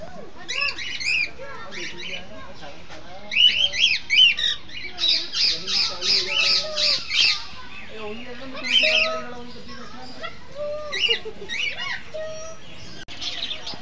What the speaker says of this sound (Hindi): देखिए, कॉकटेल पैरट